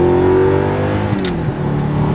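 Audi R8 fitted with an Fi active exhaust revving up to around 5,000 RPM, a loud, continuous engine note climbing and then easing slightly, with no talk.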